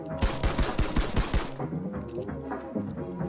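Rapid video-game gunfire from players in a duos test event, a dense burst of close, loud shots for about a second and a half, then sparser distant pops and scattered shots continuing.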